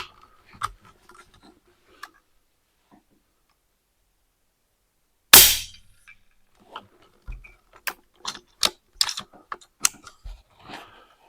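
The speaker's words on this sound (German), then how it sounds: "Das ist wieder ein Schuss, der zählt jetzt nicht." A single sharp crack from an Altaros M24 airgun stands out alone, followed by scattered clicks and handling taps of the rifle at close range.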